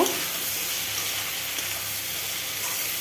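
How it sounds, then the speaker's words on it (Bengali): Ginger-garlic paste with cumin powder frying in a pan while being stirred, giving a steady, dense sizzle that holds close and even throughout. "তারপর দিয়ে দেব আদা বাটা রসুন বাটা জিরে গুঁড়ো দিয়ে আবারও ভালোভাবে নেড়ে নেব"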